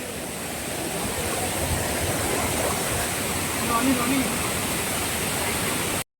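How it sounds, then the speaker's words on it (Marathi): A steady, broad roar of a waterfall filling the whole clip, constant and loud with no breaks. "तर मित्रांनो हा धबधबा तर आमचा ट्रॅक आहे"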